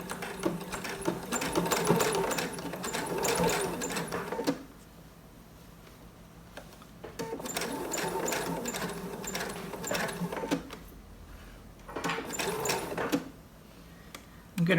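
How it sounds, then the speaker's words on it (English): A sewing machine stitches down an elastic waistband in bursts of rapid, close mechanical whirring, stopping and starting three times with quiet gaps between runs. "I'm going to needle down, and I'm just going to stitch this down."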